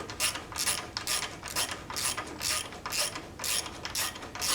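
Steady rhythmic clicking as a ratchet on a new sawmill is cranked by hand, each stroke giving a bright rasping burst of pawl clicks, about seven or eight strokes in a regular back-and-forth pattern, close up with no talking.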